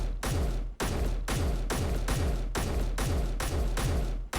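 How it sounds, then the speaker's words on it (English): Rapid bursts of gunfire from the Space Engineers game ring out in an even rhythm, about nine loud, close shots each trailing a short decay, with no talk. "Let's fire a couple of bullets here."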